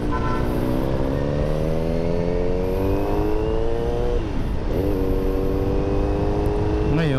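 A Kawasaki motorcycle engine, from a Z900RS Cafe or Ninja 400, revs loudly and steadily, its pitch climbing smoothly over several seconds, then dipping and rising again in a second brief surge.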